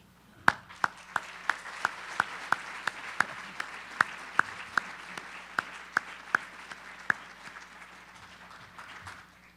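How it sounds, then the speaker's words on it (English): Applause from the audience at a university student leadership awards event as members of student involvement stand, a steady, moderately distant wash of many hands with a few louder individual claps popping out on a regular beat throughout. "could you please stand while we give you a round of applause as well?"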